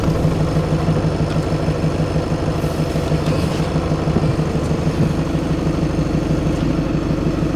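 A Morelo luxury motorhome built on a truck chassis idles with a steady, loud, low diesel rumble, close and unbroken throughout.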